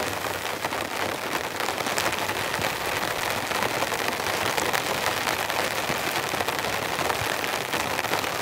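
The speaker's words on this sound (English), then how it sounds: "But the rain is just chucking down." Heavy rain pours down on a tent at a cold camp, a dense, steady hiss of drops drumming on the fabric throughout, with no voices.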